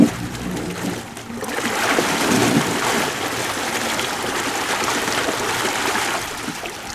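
An Aqua Blaster lake muck blower runs in pond water, pushing about 400 gallons per minute with a steady, close, broadband rush and churn of moving water that holds at an even level throughout with no talk.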